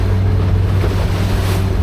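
A jet ski idling along through water in the Kimberley, a steady low engine drone under constant rushing water and wind noise, loud and close.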